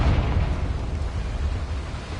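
Confringo fire spell blast in Hogwarts Legacy on PS5, a loud, deep rumbling burst that rolls on steadily for a couple of seconds with no voices over it.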